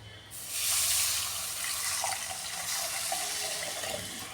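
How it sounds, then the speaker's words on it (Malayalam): Water is poured into a pan of spiced tomato base for a fish curry, a loud splashing gush that starts abruptly, peaks early and then settles into a steady, slightly fainter running pour. "ഇത് വേവാൻ ആവശ്യത്തിലുള്ള വെള്ളം ഒഴിച്ചു കൊടുക്കാം."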